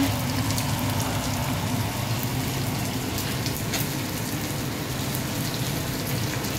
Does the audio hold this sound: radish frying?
yes